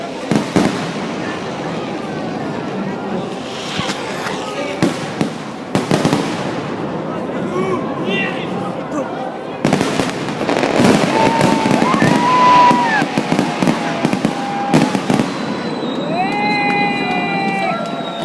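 A fireworks display on 21 July 2013: a steady run of bangs, crackles and whistling rockets, some near and loud, under a murmuring crowd with voices talking nearby.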